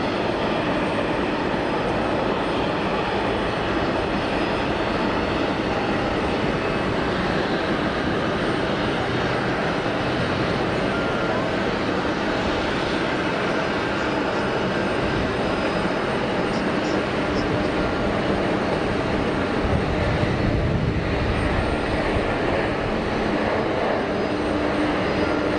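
Steady broadband roar of a jet airliner's engines at Geneva Airport, loud and continuous, with a slight swell toward the end; no talking.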